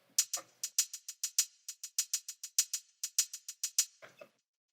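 Crisp trap hi-hats, high-passed, EQ'd and compressed, tick in a steady rapid pattern of bright, even hits, with a short pause midway and a softer, lower tail at the end; no voice.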